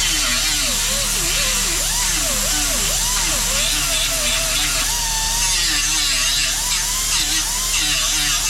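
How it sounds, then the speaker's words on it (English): A power tool grinds down the raised edges on the back of a 2018–2020 Ford F150 grille, giving a loud, steady, close whine whose pitch wavers and slides as the load changes, with no talking. "So we're gonna have to grind these flat and then I'll put my new emblem on."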